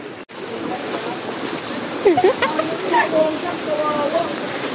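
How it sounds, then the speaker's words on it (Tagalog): Water waves wash through a fish pond stocked with tilapia, giving a continuous, fairly loud rushing and splashing. A few brief higher chirps rise above it midway. "Pasensya na medyo malakas yung alon"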